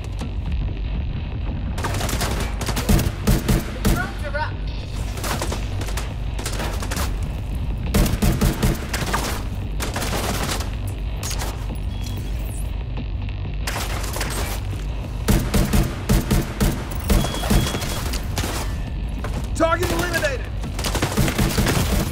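Gunfire rattles through a firefight in The Division 2, with rapid bursts of automatic shots and heavier impacts that repeat across the clip in loud, clustered volleys.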